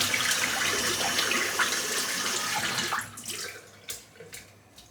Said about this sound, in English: Give the brush a quick rinse out.